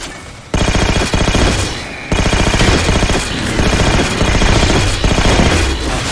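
Rapid automatic gunfire from a new weapon in the video game Halo 4, loud and close, with a dense rattling stream of shots after a brief quieter lead-in and a short break near the two-second mark.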